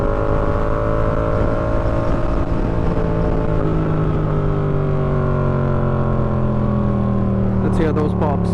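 Yamaha MT07 motorcycle with an SC Project exhaust droning steadily on the road as engine pitch slowly falls while decelerating, ending in a burst of sharp crackling pops near the end.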